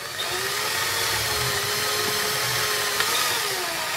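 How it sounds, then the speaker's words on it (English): A steady electric drill hum runs while boring a wire hole through a board, near and continuous with a small click near the end as it breaks through. "now I'll put a hole through this board here for the wires to run through"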